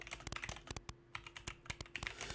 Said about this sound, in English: how you should be typing this